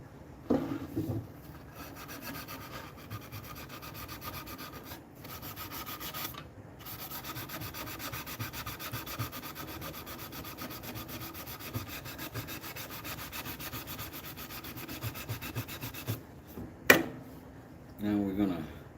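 A metal piece sanded by hand, giving a continuous close rasping scrub with a few brief pauses and a sharper clack near the end.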